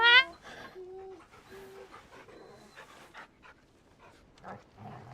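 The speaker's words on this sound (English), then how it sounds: "Not the sad puppy noises." A dog whimpers and pants in a Final Fantasy XVI cutscene, with a few short whining tones near the start over a soft, quiet game backdrop.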